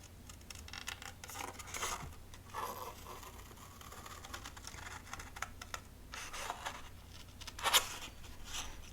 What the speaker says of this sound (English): We'll cut this out. Again, I'm using the recoil scissors since I already have them out.